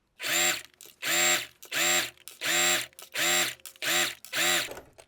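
A sewing machine stitching the long seam of a shirt collar at a longer stitch length, seven loud whirring bursts in a regular stop-start rhythm, close and alone.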